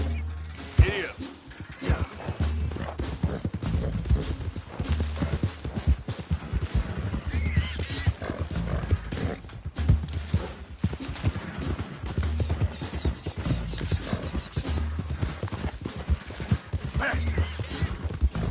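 Horse galloping in Red Dead Redemption 2, a continuous rhythmic clatter of hooves with tack and gear rattling, steady and close throughout, with a brief neigh and a rider's voice now and then.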